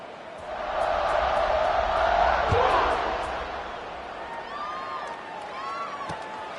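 A football stadium crowd roars in a broad swell that builds, peaks and slowly fades into a lingering din, with whoops and whistles scattered through it and an announcer talking over the noise.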